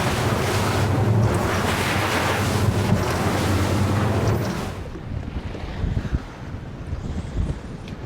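Strong wind roars across the microphone while waves slap and wash around a small commercial fishing boat on a rough sea, loud and constant at first, then easing to choppy water splashing against the hull.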